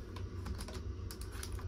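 Rapid typing on a Japanese computer keyboard at an internet cafe in Japan, a dense run of close, crisp key clicks with uneven rhythm over a low background hum.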